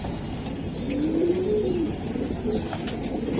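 A racing pigeon at a pigeon club gives one soft, drawn-out coo close to the microphone, followed by a brief second murmur, with a low background hum and no talk.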